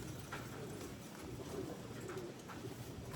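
A pigeon cooing softly, kept among fancier's birds: low repeated coos heard close but faint over steady background noise, with no talking.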